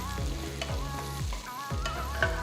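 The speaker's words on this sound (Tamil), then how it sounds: "2 பச்சை மிளகாய் பொடியை நறுக்கினது, கொஞ்சமாக கருவேப்பிலை சேர்த்து நல்லா வதக்குங்க" Garlic and green chillies with curry leaves sauté in a sizzling pan while a utensil stirs and scrapes in regular sweeps, close and fairly loud.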